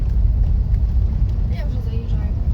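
A car's engine pulls steadily through third gear during a driving lesson on a rural road by fields. Heard from inside the cabin, it is a continuous low, rumbling drone with a slight rising note midway.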